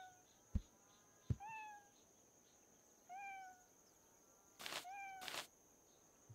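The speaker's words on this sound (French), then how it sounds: "on entend un petit miaou de loin" Several faint meows from hidden cats in the Hidden Cats street-market game: a few short rising calls spaced over several seconds, quiet and distant, with soft clicks and two brief bursts of noise between them and no talking.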